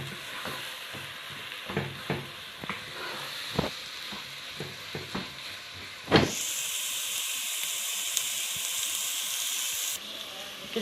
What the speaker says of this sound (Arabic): نعصر البصل مع اللحمه المفرومه اهو حبايبي. نقلبه كويس بس البصله تدبل بس.